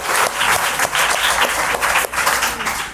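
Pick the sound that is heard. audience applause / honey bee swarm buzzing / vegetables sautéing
audience applause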